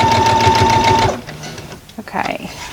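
A sewing machine runs steadily for about a second as it stitches a quilt block seam for a double friendship star, close and loud, then stops, leaving faint handling sounds and brief room noise.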